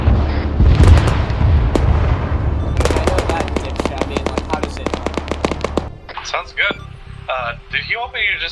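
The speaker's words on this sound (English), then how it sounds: "Sounds like distant explosions." Gunfire and explosions in the military video game ARMA: bursts of machine-gun fire and rapid shots, with deep booms rolling underneath, then a cluttered stretch of tonal game sounds near the end.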